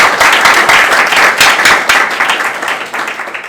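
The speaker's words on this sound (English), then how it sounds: "Let's give Martin a big round of applause for the talk" An audience gives loud, close applause after a talk, with distinct individual claps in a lively, uneven patter that fades slightly toward the end and faint talk underneath.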